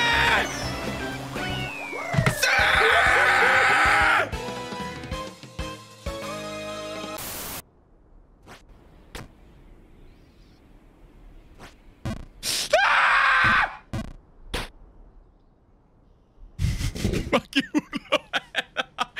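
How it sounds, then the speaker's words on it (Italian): Screams from a Google Assistant voice burst out loud and distorted, with crashing noise and long silent gaps between harsh outbursts. "Ma che cazzo di urlo è?"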